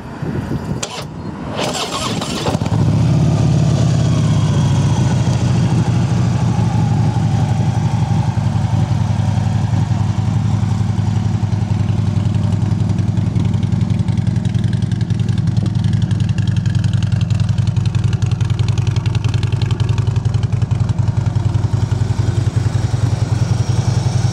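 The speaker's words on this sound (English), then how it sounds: "Go ahead and start up. We'll see what that Vance and Hines setup sounds like." A Harley-Davidson Freewheeler trike with a Vance and Hines exhaust cranks over and fires up, then settles into a loud, steady, deep idle rumble that continues alone and close up for the rest of the clip.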